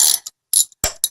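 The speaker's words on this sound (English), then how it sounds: "So let me get the ratchet ready again" Ratchet wrench turning bolts during a timing chain repair, four quick crisp clicking bursts in an uneven rhythm, close and loud with silence between.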